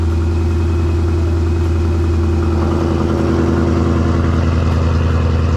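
Close, loud, continuous idle from a Ford Mustang Coyote V8 fitted with headers, exhaust valves open, a deep steady burble with no voices over it.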